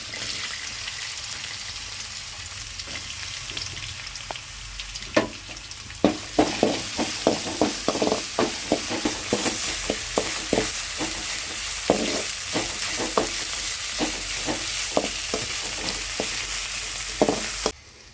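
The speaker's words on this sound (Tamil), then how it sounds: "வெங்காயம்லாம் நல்லா வதங்கிருச்சு" Onions sautéing in a pan give a steady close sizzle, while a spoon stirs with repeated scraping clicks and knocks through most of the stretch, no talk.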